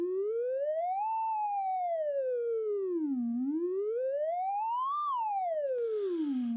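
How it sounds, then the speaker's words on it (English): A modular synthesizer siren tone sweeps slowly up and down in pitch twice, smooth and continuous, ending with a brief noisy crackle. "if I want to make something like, say, a siren sound, I could do this"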